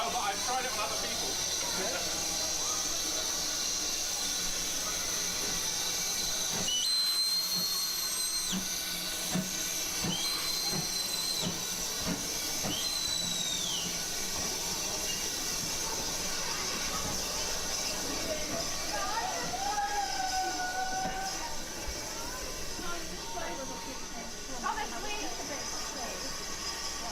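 Steam locomotive on the Strathspey Railway near Aviemore, Scotland, giving a steady hiss of escaping steam with a few short whistle tones; people talk nearby.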